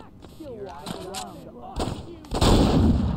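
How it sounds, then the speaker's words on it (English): Saints Row 2 gameplay gunfire: loud booming shots break out after a voice talks, ending in a dense burst of heavy, rapid fire near the listener. "We can shoot while moving him this way,"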